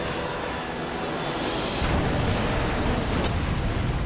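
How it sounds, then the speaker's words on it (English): A burning Korean Air 747 airliner with engines on fire passes overhead, its broadband engine roar swelling suddenly louder and harsher midway and staying intense to the end. "saw the plane coming over with fire coming out of the engines"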